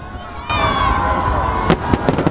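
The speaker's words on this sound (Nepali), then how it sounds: "ओहो, कति ठुलो आवाज, कति आकर्षक आतिशबाजी।" A large fireworks display over Hong Kong produces a continuous rumbling roar, with several sharp, loud bangs and crackles breaking through toward the end.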